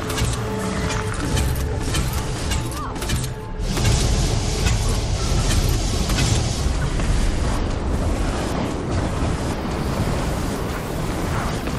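Grenade blasts in the video game Guild Wars 2 come as a sustained, loud, rumbling roar of explosions and crackling debris, dense and continuous with no clear pauses.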